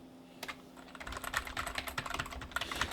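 Braille is typed on a computer keyboard using chorded key presses, giving a steady run of quick, close clicks and clacks that builds to a busy, continuous patter.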